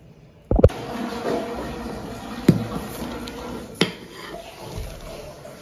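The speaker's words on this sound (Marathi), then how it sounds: "असं चमच्याने घालून घ्यायचं आणि न कळत जरा पसरायचं" A spoon clinks and scrapes on a plate while spreading potato papad batter, a few distinct metallic taps spaced out over several seconds against a quiet background.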